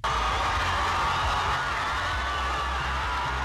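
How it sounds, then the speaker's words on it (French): A large crowd cheers loudly and continuously when a new Miss is announced, a dense wall of voices and whoops that holds steady throughout. "À l'annonce des résultats, une foule en liesse."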